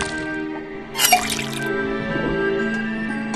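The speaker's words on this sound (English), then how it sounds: "First thing we do, then tap the faucet." A faucet drips in the puzzle game Detective Grimoire, with soft drip and splash effects over a sustained musical backdrop and a brief burst of watery noise partway through.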